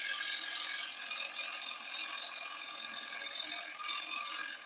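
Gouge cutting a zebrano wood bowl spinning on a wood lathe, a steady scraping, chattering hiss that continues evenly throughout, close and fairly quiet, with no talking.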